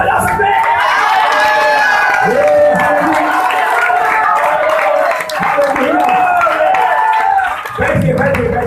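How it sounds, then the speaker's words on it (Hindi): An audience at a gathering claps and cheers over a loud voice that keeps talking through the applause, with brief dips in the noise. "क्या तालियां बजा सकते हैं?"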